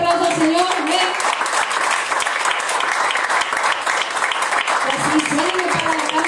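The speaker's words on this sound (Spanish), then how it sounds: "Denle un fuerte aplauso al Señor." A church congregation claps loudly and continuously, a dense sustained roar of applause with voices calling out over it throughout.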